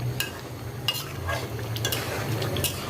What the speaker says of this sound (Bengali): এখন একটু মিক্সড করে দেবো মশলা ঝোলের সাথে